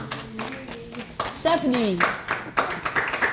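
Applause from an audience at a children's quiz contest, with clapping bursts mixed under a speaking voice, fairly close and moderate in loudness.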